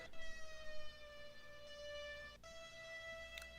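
A single sustained synthesizer tone with bright harmonics holds steady, then bends slightly in pitch, with a short break near the end.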